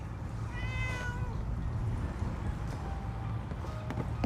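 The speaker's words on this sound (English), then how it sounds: "I heard a kitty." A single cat meows clearly in the middle distance in the video game Fallout 4, a short rising-falling call over a steady background hum with faint steps.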